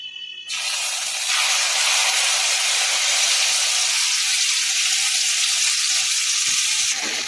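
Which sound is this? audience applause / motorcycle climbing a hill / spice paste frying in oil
spice paste frying in oil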